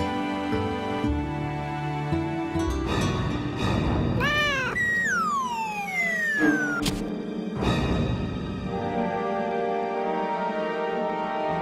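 A cat meows several times in a children's story, with long, drawn-out, sliding cries and shorter calls, loud and close against a steady background.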